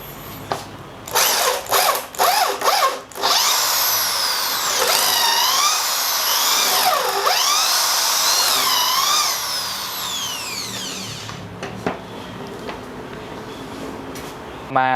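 A Makita M8103B 13 mm hammer drill with a 12 mm bit whirs in short bursts, then runs steadily into concrete with rising and falling pitch as it bites in, loud and close before winding down.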